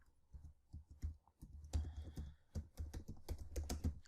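Rapid keystrokes on a computer keyboard while entering JavaScript code, with steady clicking taps that grow busier and denser partway through, close and fairly clear.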